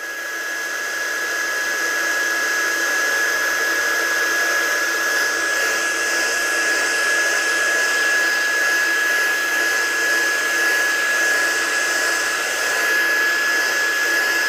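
A hair dryer blows continuously for about fourteen seconds to dry something off, a steady close whooshing whine with a constant high tone and no talk.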